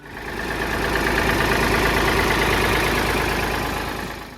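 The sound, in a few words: Ford 4000 three-cylinder tractor engine idling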